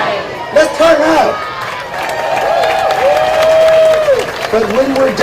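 Crowd at a San Diego Pride event cheering and applauding, a continuous wash of clapping and shouts with an amplified voice calling out over it.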